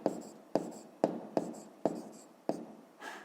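A pen taps and scratches out a fifth-grade math solution in six short, evenly spaced strokes, each a crisp attack that fades quickly, close and fairly quiet, with no voices.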